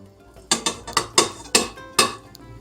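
Several sharp metallic clanks and knocks ring out in an irregular series, like a metal pot being set down and moved around nearby.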